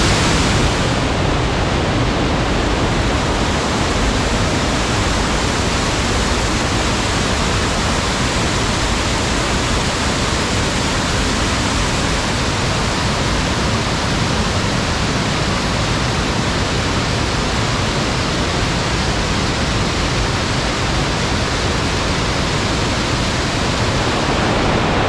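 Mağara Pınarı waterfall near Uzungeçit, Uludere in Şırnak, Turkey, pours with a loud, constant broadband roar, close and unbroken for the whole stretch.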